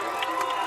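A Holtville crowd at a high school football game cheers after a touchdown, a brief wash of distant voices and shouts that holds steady and keeps going.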